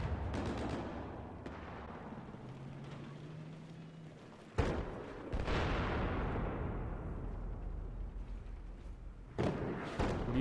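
Battlefield 4 gameplay gunfire and heavy explosive thuds, with loud bursts near 4.6 and 9.4 seconds over a continuous rumbling battlefield din.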